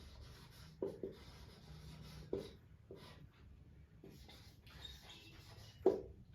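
Chalk or marker scratching on a board during a physics lesson on latent heat, a few short strokes and taps spaced over several seconds against a quiet room hum.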